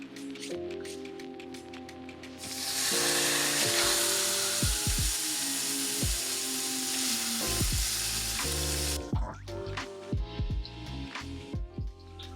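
A large cut of garlic-rubbed meat searing in a hot pan, loud sustained sizzle erupting after a few seconds over a background of steady tonal music, then easing off near the end.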